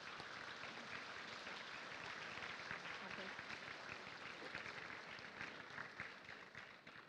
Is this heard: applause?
yes